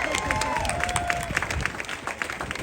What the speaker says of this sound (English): I want a round of applause for that, for sure.